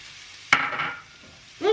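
Garlic, leek and carrot sizzle in a hot pan as they are stirred, with a sharp scrape of the utensil followed by a burst of frying hiss that fades, then another scrape near the end.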